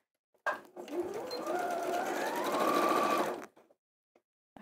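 A domestic sewing machine reverse stitching through fabric for a fat quarter quilting project runs in one continuous close burst of about three seconds, its motor whirring steadily and rising slightly in pitch before stopping abruptly.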